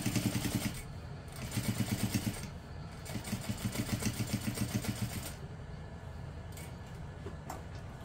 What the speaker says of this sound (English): now we're going to top stitch along that seam on pocket panel C and through the seam allowance